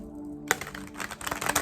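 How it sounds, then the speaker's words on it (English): Tarot cards being shuffled by hand: after a brief quiet start, a dense run of quick papery riffling clicks and flutters follows, close and moderately loud, with no talking. "Okay, so just gonna get one more shuffle"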